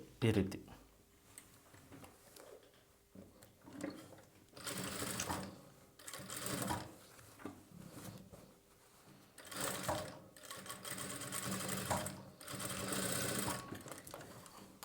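A sewing machine stitching a boat neck blouse runs in several whirring bursts separated by pauses, heard up close while someone talks over it.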